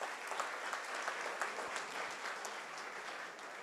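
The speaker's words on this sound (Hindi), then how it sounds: "तालियां बहुत कम हैं।" Faint, steady applause rises from the audience at a mushaira literary festival, a soft even patter of many hands with no voices over it.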